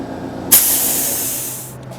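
An aerosol can of Dupli-Color Candy Coat translucent paint bursts into a loud, close, continuous spray hiss after a brief pause, holding steady for over a second before tapering slightly.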